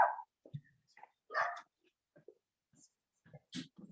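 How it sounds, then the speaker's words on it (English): A dog gives a few scattered, fairly faint barks and whimpers with pauses between them, alongside bits of distant voices and small background noises. "Sorry, my dog's barking."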